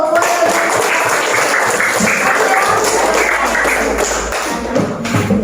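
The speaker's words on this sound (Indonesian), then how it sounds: "Semuanya, ayo tepuk tangan dulu" Classroom applause from students praising a group's answer in a fractions lesson, loud, dense clapping throughout, close by, with a few scattered voices and thumps.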